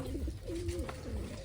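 Pigeons coo repeatedly in low, throaty phrases, close by and fairly steady, with faint background noise throughout.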